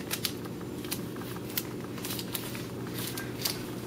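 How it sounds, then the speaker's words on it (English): Tape is pulled and pressed onto parts of a paper model at close range, a quiet series of crinkling, sticky crackles and taps. "tape this wobbly part that you should have to this"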